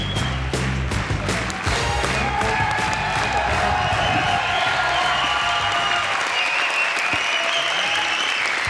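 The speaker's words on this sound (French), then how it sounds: "Applaudissements." Studio audience on a French television talk show breaking into sustained loud applause, dense clapping with some cheering throughout, continuous and close.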